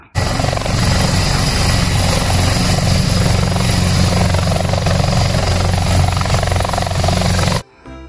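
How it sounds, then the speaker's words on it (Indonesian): A toy helicopter's rotor whirs in a loud, steady buzz close by, running without a break, then cuts off abruptly just before the end. "Yang ini ada baling-balingnya. Ternyata helikopter."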